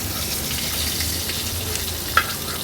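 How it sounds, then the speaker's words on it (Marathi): Bombay duck fish, coated in flour or semolina, frying on a tawa over low to medium flame produces a steady, even sizzle with one brief crackle pop. "2 ते 3 मिनिटांसाठी लो टू मीडियम फ्लेमवर एक बाजू बोंबलाची व्यवस्थित तळून घ्यायची आहे"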